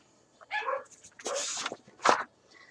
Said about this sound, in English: My dog doesn't bark for no reason.